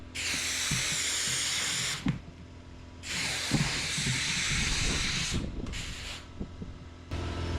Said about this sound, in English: Pulling and using the air compressor at the same time is really the way to go.